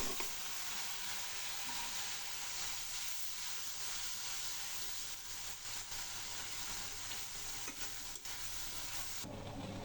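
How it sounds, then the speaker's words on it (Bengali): Spices fry in a pan under a constant soft hiss, with faint stirring scrapes scattered through it, quiet and close, with no voices. "এদিকে মশলা কষাচ্ছি"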